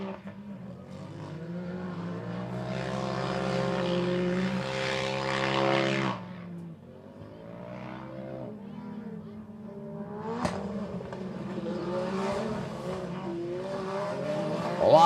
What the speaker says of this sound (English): Lots of turbo pops. You can hear the blow-off valves letting that pressure built up inside the intake.